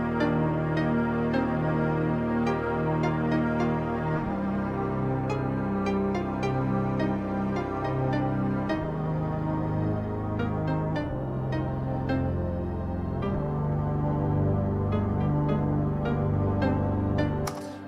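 Dungeon synth style synthesizer melody played in octaves, each note doubled an octave higher over sustained low chords, moving at a slow, stately pace with a dense, continuous texture and no voices.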